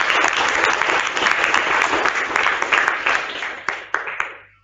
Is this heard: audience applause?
yes